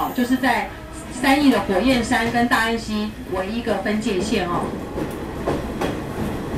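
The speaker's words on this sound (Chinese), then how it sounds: "火车经过的声音不太一样哦" A train hauled by the CK124 steam locomotive rumbles along the old Tai'an line over track and an iron bridge, a continuous rolling clatter beneath a narrator talking steadily throughout.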